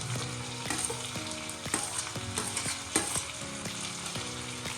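Chopped carrots and beans frying in a pan for vegetable shavige bath, sizzling steadily while a spatula scrapes and clicks against the pan at a regular pace.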